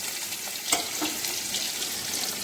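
Chopped tomato fries in hot oil in a pan for a Bengali fish curry, a soft, steady sizzle with a few light stirring clicks, close up and moderately quiet, with no speech.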